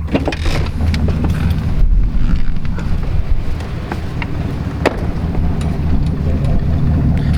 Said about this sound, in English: It's horrible outside, cold and super windy, so brace yourselves